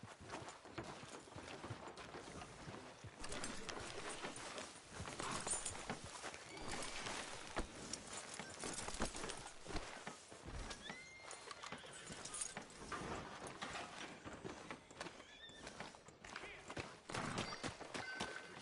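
Steady clopping of horse hooves at a walking pace in Red Dead Redemption 2, under a busy, noisy game soundscape, with occasional snorts.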